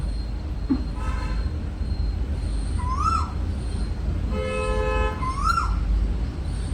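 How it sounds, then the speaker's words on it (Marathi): An Asian koel calls twice from a distance, rising whistled notes over a steady low rumble of traffic or machinery. "उठल्या उठल्या आवाज झाला कोकिळाचा"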